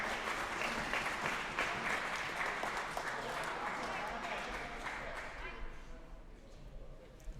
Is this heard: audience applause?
yes